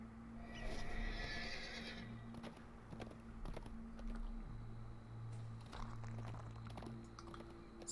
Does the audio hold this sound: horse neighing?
yes